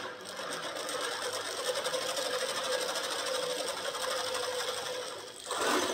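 A Black & Decker power tool whirs steadily and loudly in a workshop during chopper frame fabrication, holding one continuous running tone for several seconds before a brief change in pitch near the end.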